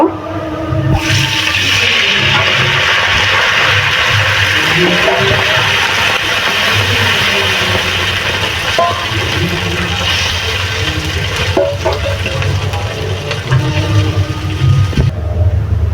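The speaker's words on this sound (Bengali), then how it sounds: "এর উপরে চিকেন স্টক দিয়ে দেব" Chicken stock poured over crispy fried chicken in a hot pan gives a loud, steady rushing hiss and sizzle that lasts the whole stretch without a break.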